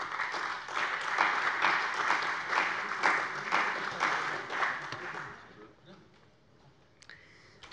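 Members of a German state parliament applaud during a plenary session, a dense, even wash of clapping that holds steady for about five seconds, then thins out into scattered claps and room noise.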